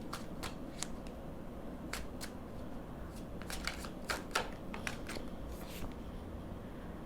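Tarot cards being shuffled by hand, a string of soft, quick riffling flicks and taps, quiet and close, with no talking.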